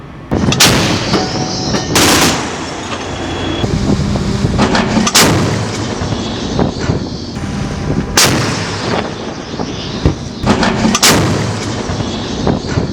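A Kenya Navy ship's deck gun fires repeated heavy rounds during a surface bombardment, each shot a loud booming blast spaced a few seconds apart over constant rumbling noise, with no talk.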